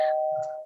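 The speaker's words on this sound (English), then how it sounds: "doorbell" A single doorbell chime rings once, a clear sustained tone lasting under a second before fading, heard close and alone.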